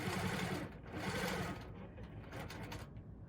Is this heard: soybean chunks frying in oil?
no